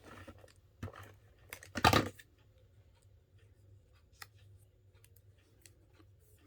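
Scissors trimming adhesive strips, a few quick snips with one louder cut cluster in the middle, close and fairly quiet against a low steady hum, no talking.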